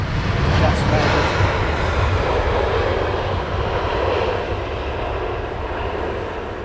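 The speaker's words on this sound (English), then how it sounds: "The Dreamliner just landed." A Boeing 787 Dreamliner lands at London Heathrow Airport, its engines producing a loud, broad roar that holds steady and then eases slightly as the jet rolls out, with voices talking over it.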